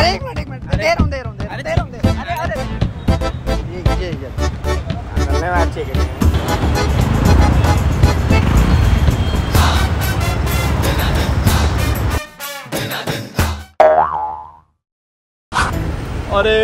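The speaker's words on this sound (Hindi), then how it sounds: "अरे यार ट्रैफिक जाम है यार" Traffic jam on a city road: a dense wash of car engines and honking horns with people talking over it, cutting to near silence at the end.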